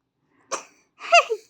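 Close, loud sneeze in two parts, a short sharp burst followed a moment later by a longer, voiced one, in a quiet room with no talking.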